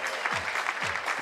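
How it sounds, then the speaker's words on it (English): Crowd applause and cheering for a bronze medallist who also earned an Olympic quota place at a women's skeet final of the ISSF World Championship in Baku, loud, steady clapping filling the whole moment. "Listen to the response she gets from this crowd"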